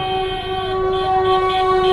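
A train rumbles past a level crossing nearby with steady wheel clatter while a long horn sounds loudly throughout.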